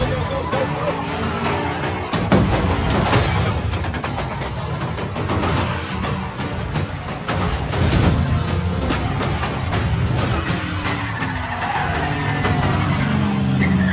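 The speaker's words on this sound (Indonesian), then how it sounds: "Ethan pun menggunakan mobil yang sudah disediakan Luther" Car engine roaring and tires skidding during a high-speed movie chase scene, loud and continuous with revving surges and crashes throughout, overlaid with music and voices.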